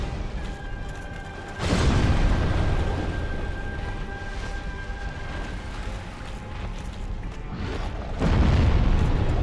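Explosive bursts in a fantasy action game, two loud booming blasts a few seconds apart over a dense rumbling background with a faint sustained tone.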